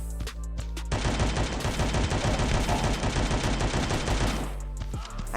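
Sustained assault rifle fire in the Guns of Boom mobile shooter, a loud rapid automatic burst lasting several seconds after a short quiet start, then cutting off into lighter clicks.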